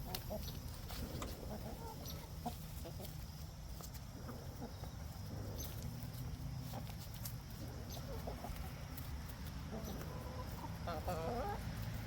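Chickens cluck steadily through a busy farmyard, with scattered bird calls over a constant low background hum and occasional faint voices.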